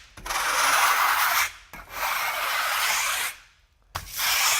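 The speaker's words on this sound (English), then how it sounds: "if there's any little nibs or little cling-ons, we're just scraping them off" Steel trowel scraping nibs off a concrete micro-topping on a vertical wall, three long loud rasping strokes separated by brief pauses, close up with no talking.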